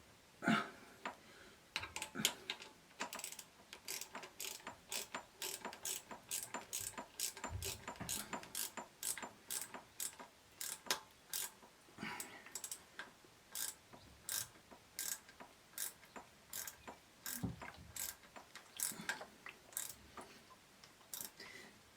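Ratchet wrench tightening carburettor bolts on a Kayo dirt bike, long runs of quick close metallic clicks in bursts with brief pauses, fairly quiet and without talk.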